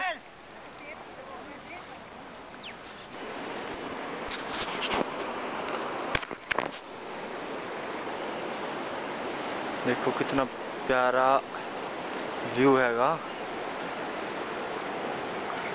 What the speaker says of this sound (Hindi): और आगे पानी जा रहा है बहुत तेज बहुत तेज बहाव है इसका पानी का